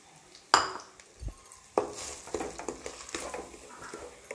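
Semolina being fried in cow ghee in a pan, with a sharp metal knock at the start followed by close scraping, stirring strokes and light clinks, fairly quiet with a faint frying hiss underneath.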